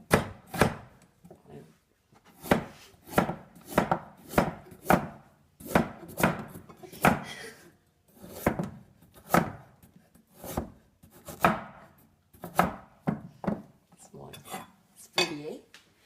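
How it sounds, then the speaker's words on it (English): Knife chopping carrots into small pieces on a cutting board, a steady series of sharp, close chops in short bursts with brief pauses between them, no talking. "You cut them in little pieces."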